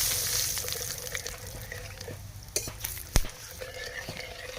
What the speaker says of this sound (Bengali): দিয়ে দিলাম ফোড়নে জিরে শুকনো লঙ্কা তেজপাতা গরম মশলা